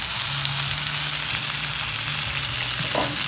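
A milkfish head is frying in hot oil and gives off a loud, steady close sizzle throughout, with a brief stirring clatter near the end.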